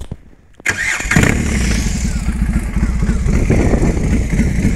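A BMW R18 Bagger motorcycle cranks briefly after a short quiet moment, then its big boxer engine catches and settles into a loud, throbbing idle with a pulsing exhaust beat, heard close up.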